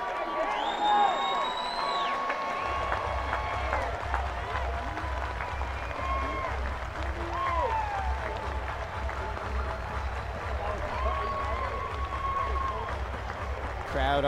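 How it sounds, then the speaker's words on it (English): A college baseball crowd at Founders Park, South Carolina hosting Vanderbilt late in the ninth inning, keeps up a steady roar with whoops and clapping, while announcers talk over the stadium noise. "Crowd on its feet here at Founders Park."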